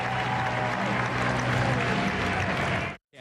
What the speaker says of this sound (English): Nice round of applause for him